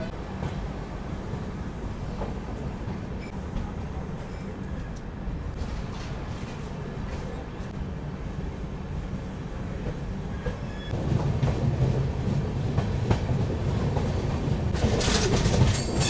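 The 12040 New Delhi–Kathgodam Shatabdi Express pulls away from a station after a two-minute halt, a steady rumble of wheels on rails that grows louder partway through, with occasional clatter and squeal.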